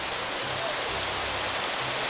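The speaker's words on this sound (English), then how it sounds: "It's raining." Steady rain in the video game Colonize, a continuous, even hiss of falling drops at moderate loudness, with no talk over it.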